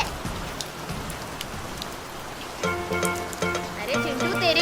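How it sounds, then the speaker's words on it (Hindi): Cartoon rain pours down as a dense, steady hiss of falling drops, with a bright chiming musical cue rising over it in the second half. "अरे चिंटू, तेरे ऊपर बारिश हो रही है"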